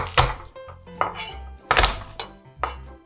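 Whole garlic cloves are crushed on a board, giving four sharp knocks and cracks spaced irregularly, close and fairly loud with no talk.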